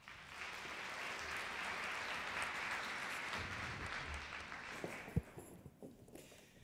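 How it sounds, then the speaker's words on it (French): Audience members at a forum on best practices in long-term care and home support applaud presenters, sustained faint clapping from across the room that thins out near the end, with a few knocks and rustles. "On peut les applaudir également."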